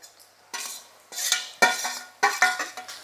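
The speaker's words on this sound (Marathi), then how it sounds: "वाटण आपल्याला एक ते दोन मिनटं असं परतवून घ्यायचं आहे" Masala paste stirred in a frying pan with onion for stuffed brinjal, a spoon scraping and clinking against the pan in a few distinct strokes with faint sizzling underneath.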